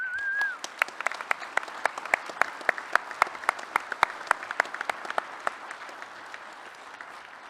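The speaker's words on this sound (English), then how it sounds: "Let's give them one more round of applause" Audience applause at a security conference's closing remarks comes as a scattered run of sharp, distinct claps from a modest crowd, fairly close and thinning out over several seconds after a brief opening voice.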